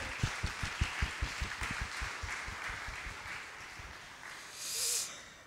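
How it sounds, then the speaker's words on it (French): An audience at a conference debate applauds its three speakers, distinct claps at first that blur into a fainter wash of clapping and gradually thin out, with a brief hiss near the end. "On applaudit nos 3 intervenants."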